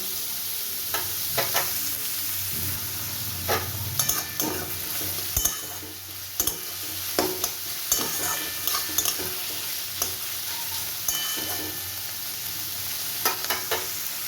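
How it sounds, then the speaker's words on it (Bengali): Sliced onions sizzle steadily in hot mustard oil while a spatula scrapes and knocks against the pan in irregular bursts, close and moderately quiet with no talking. "পেঁয়াজটাকে ধরে ধরে একটু ভালো করে ভেজে নেবো"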